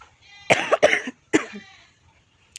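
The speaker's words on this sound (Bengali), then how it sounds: "কিন্তু কাশিটা এখনও প্রচণ্ড আছে" Several harsh coughs in quick bursts from a person with a persistent illness, close and fairly loud, followed by quieter breathy sounds.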